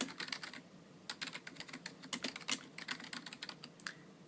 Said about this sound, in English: So I'm going to type that one.